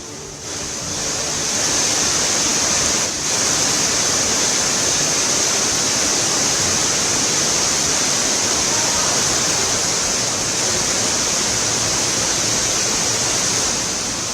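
Floodwater pours over the steps of a Dehradun temple during heavy monsoon rain at night, a loud, continuous roaring rush that holds steady throughout with no voices.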